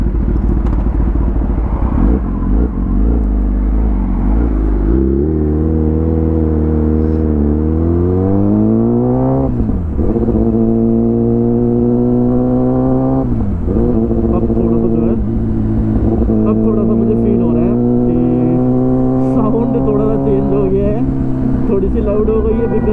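A Kawasaki ZX10R sportbike accelerates hard, heard from a rider's helmet position, its engine climbing loudly through several gears with rising whines and sharp drops at each shift, under wind rush.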